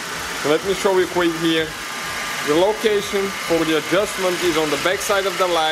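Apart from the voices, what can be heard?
Mercedes W204 car engine idling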